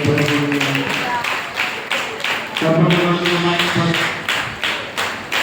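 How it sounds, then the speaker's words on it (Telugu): A congregation at a church service claps hands in a steady rhythmic beat, loud and close, while a voice sings or speaks over the clapping. "చప్పట్లు కొడుతూ"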